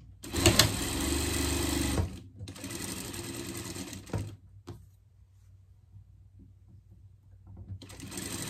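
A sewing machine stitches the sleeves of a small fabric pet dress, running in a steady whirring burst, pausing, then another run and a brief restart, fairly quiet and close.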